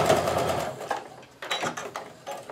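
A sewing machine stitches quilt pieces for a patriotic Quilt of Valor in close, steady bursts of rapid needle clatter that pause briefly and restart, with no voices.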